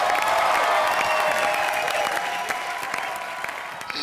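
A television comedy show's studio audience breaks into loud, dense applause with some cheering, a sustained roar of clapping that eases slightly toward the end.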